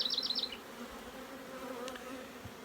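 Honeybees buzz steadily around hive frames being packed with pollen in a queen-rearing builder colony, a close continuous drone with a brief higher whine at the start.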